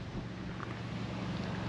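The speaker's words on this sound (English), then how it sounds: "But still a little windy." Wind gusts across the microphone outdoors by a lake at Truman State Park, a steady low buffeting rumble with a soft broadband rush and no voices.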